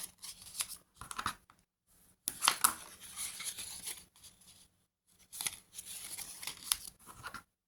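Paper is folded back and forth into an accordion pleat for a scrapbooking rosette, producing crisp crackling and rustling bursts in irregular spurts separated by short silent pauses, close and fairly quiet, with no speech.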